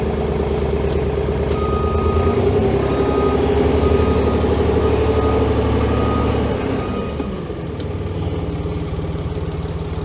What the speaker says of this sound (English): We love beeps, don't we, Mike?